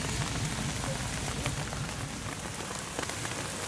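Rain falls steadily at a lake, a soft, even hiss of drops pattering on surfaces with occasional slightly louder splashes, faint and continuous throughout.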